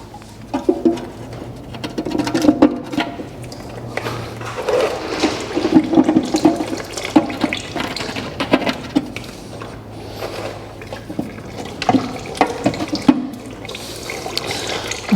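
Engine oil drains from a Fiat 500 sump into a pan as a continuous, splashing trickle of liquid. Birds chirp intermittently in the background, and there is faint handling noise.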